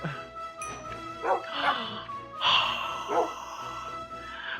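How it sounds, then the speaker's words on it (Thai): A Minecraft puppy lets out a few soft, spaced barks and yips mixed with little whimpers, fairly quiet and with no voices over it. "พอถึงก็มีลูกหมาเลย"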